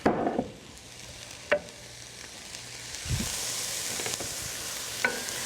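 Sizzling soup ingredients stirred with a bamboo wooden stirrer, a steady high frying hiss with a few soft knocks and scrapes of the utensil against the pot, close and continuous.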